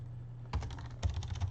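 Keys clatter on a computer keyboard as a coach name is typed during league setup in Greats of the Gridiron. Two quick bursts of close, crisp keystrokes sound over a low steady hum.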